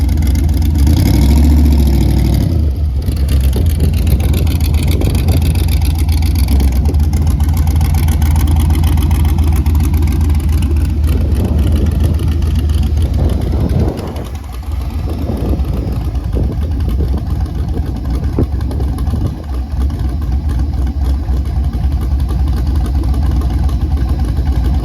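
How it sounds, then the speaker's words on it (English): Car launching hard at a drag track, a loud sustained engine roar with wheelspin, steady and close, easing briefly midway before building again; no talk. "Spun the tires right off."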